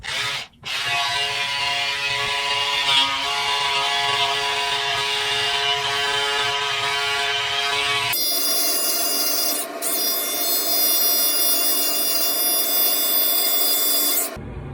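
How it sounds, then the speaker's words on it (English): An electric beard trimmer with no guard shaving the hair under a beard, buzzing loudly and continuously up close, its pitch shifting as it moves across the skin. "I'm just gonna shave down with the trimmer, get all the hair under the beard"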